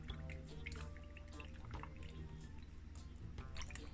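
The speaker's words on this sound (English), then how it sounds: "I'm just gonna add some almond milk." Almond milk poured from a carton into a blender holding frozen smoothie ingredients, a light trickling and dripping of liquid, close and soft, continuous under faint background hum.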